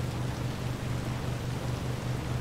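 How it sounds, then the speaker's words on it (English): Steady rain falls in the Cyberpunk 2077 video game, an even, dense hiss with a low hum beneath it and no voices. "It's raining."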